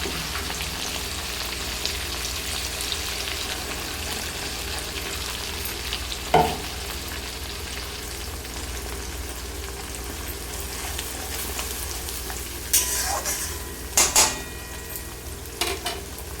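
Tomatoes fry in a pan with a steady, close sizzle; poppy seed paste and green chillies join partway, with a few sharp clinks of a utensil against the pan near the end.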